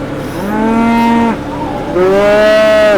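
Cattle on a farm moo twice, close and loud: a long, drawn-out low call, a brief pause, then a second rising moo that carries to the end.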